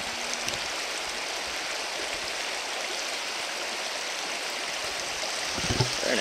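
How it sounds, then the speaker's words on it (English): A small waterfall feeding Lower Twin Lake in Banff National Park rushes with a steady, broad, continuous roar from a moderate distance, unbroken throughout, with a faint scuff near the end. "Pretty little waterfall feeding it."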